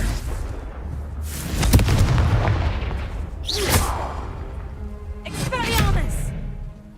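Confringo blasting spells going off in the Hogwarts Legacy video game: several loud booming bursts with crackling tails, spaced a few seconds apart, over continuous background game noise and battle clatter.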